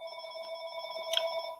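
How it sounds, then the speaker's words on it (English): A telephone ringing indoors, a steady electronic trill with bright tonal layers held throughout, moderately loud and close with no talking. "I'm not answering the phone because I don't care."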